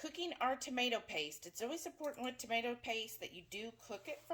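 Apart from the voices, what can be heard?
No everyday noises stand out.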